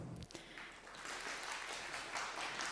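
A faint but sustained round of applause from the conference audience at ProductCamp EU in Cyprus, soft steady clapping heard from a distance.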